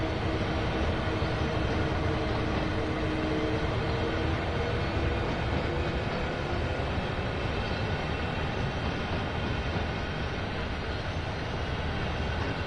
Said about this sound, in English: Whoa, and that's a long train.